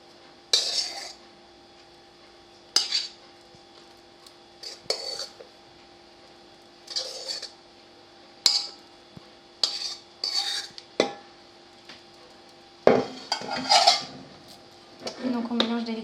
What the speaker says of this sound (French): Et donc on mélange délicatement.